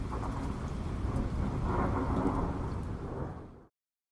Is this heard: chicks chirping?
no